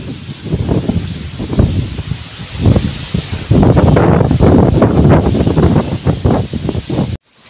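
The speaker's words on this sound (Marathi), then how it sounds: "भाई काय वारा सुटला, आज वाटत चक्रीवादळच आहे की काय" Very strong, cyclone-like wind roars in a village, pounding the microphone with heavy sustained buffeting and rustling that builds louder midway, then cuts off abruptly.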